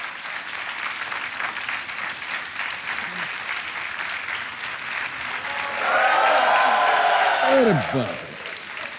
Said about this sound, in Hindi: तालियां बजती रहे सोमा जी के लिए